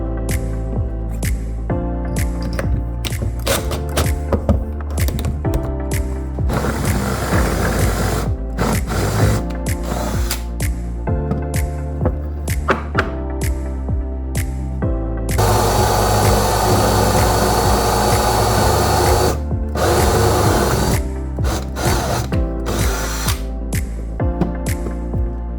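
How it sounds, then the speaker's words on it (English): A power drill bores holes through reclaimed wood, running as a continuous loud whine for the whole stretch, with brief pauses and a harsher, louder bite as the bit cuts. "I want to drill a 1 3/8 hole in the middle, and then a 5/8 hole on both ends here"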